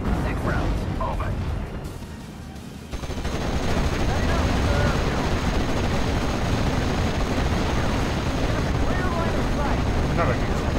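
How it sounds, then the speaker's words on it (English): Sustained machine gun fire rolls on almost without pause in a Steel Division battle, a dense continuous rattle with a brief dip before resuming loud and steady, voices faintly under it. "Only machine gun fire is coming in."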